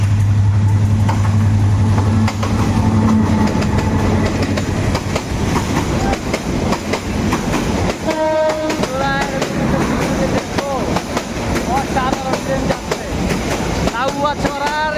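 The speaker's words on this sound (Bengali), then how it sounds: "ঢাকা থেকে সিলেটগামী যেই ট্রেনটি সেটা আসলে চলে আসে" A Dhaka-to-Sylhet train passes through Lawachara forest with a loud close rumble and rapid clickety-clack of wheels, while birds chirp above the noise in the later part.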